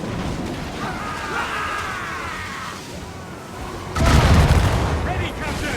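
Naval cannon volleys boom from a sailing warship in Assassin's Creed Rogue, a heavy broadside surging louder near the end beneath shouted crew voices and constant battle din.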